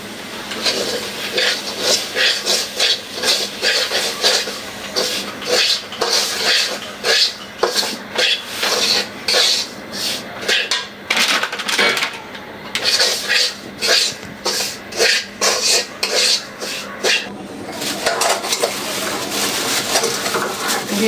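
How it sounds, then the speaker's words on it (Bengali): Semolina stirred in hot ghee in a pan for sweet halwa in a village kitchen, with a rapid run of close scraping and clinking spoon strokes against the metal through the whole stretch, fairly loud and steady. "সুজিটা দিয়ে দিচ্ছি।"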